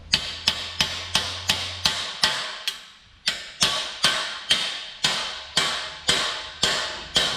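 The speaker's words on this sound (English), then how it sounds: "Here, try this hammer." A hammer strikes a metal punch on a Chevy 5.3 LS engine, sharp ringing blows about twice a second with one short pause, each clang loud and close.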